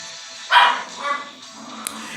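Pet dogs barking and scuffling in a house, a sharp nearby bark followed by a softer second bark and faint rustling, with a brief click near the end.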